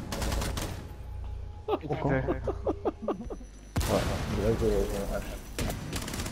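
Gunfire in the Rainbow Six video game comes in rapid bursts, with loud rattling volleys at the start and end and a clipped string of shots between, mixed with players talking over it.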